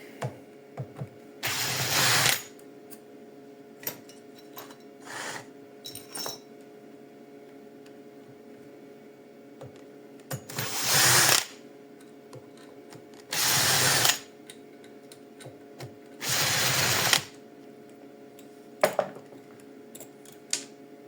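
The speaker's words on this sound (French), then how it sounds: "Alors ici, on va démonter les 4 vis de la cuve qui sont là." Unscrewing the four float-bowl screws on a Suzuki 125 carburetor with a power screwdriver, four or five short whirring bursts separated by pauses, close over quiet workshop background.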